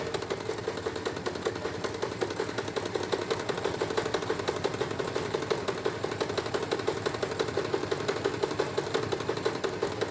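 A sewing machine stitches fabric for a children's bermuda shorts, with a fast, steady mechanical rattle running continuously at close range and ending with a backstitch.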